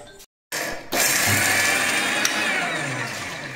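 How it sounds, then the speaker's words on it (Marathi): An electric mixer grinder whirs steadily while grinding black masala spice mix for masala bhindi. It starts after a brief silence and keeps a loud, continuous buzzing roar with a faint high whine, and nobody talks. "आता हे मिक्सरला मी बारीक करून घेते."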